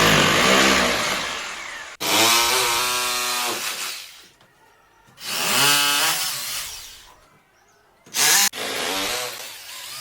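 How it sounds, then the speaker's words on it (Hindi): A power drill bores into a wall to mount a split AC plate, loud whining runs of several seconds broken by short pauses and a final brief burst. "हम लोग यहाँ पे ड्रिलिंग का काम कर रहे हैं।"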